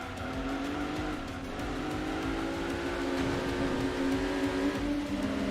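A TVR race car in Gran Turismo 2 cornering through a hairpin, its engine droning steadily while the tires squeal continuously through the turn.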